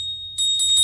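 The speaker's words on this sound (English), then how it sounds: "do you have a meditation bell?" A small meditation bell rings with a thin, high, sustained tone that lingers, and a soft shimmer of noise rises partway through.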